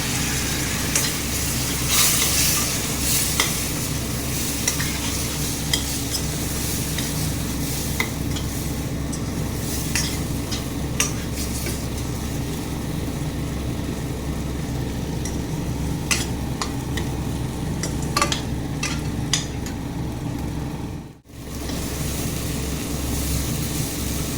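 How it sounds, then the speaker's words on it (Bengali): Spiced potatoes fry in a pan, a steady loud sizzle running throughout with occasional scraping stirs and clinks of a utensil, briefly dipping near the end. "ভালো করে জল দিয়ে ভালো করে ভেজে নেব"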